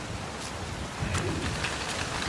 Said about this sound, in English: Hail right on cue. It's going to get nastier before it gets better.